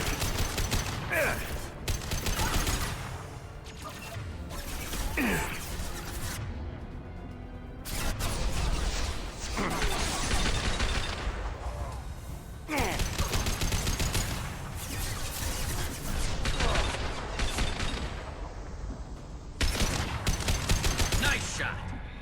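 Repeated bursts of gunfire in a Mass Effect firefight, loud and dense, with sharp shots and rapid volleys cutting through continuous game action and some speech-like chatter.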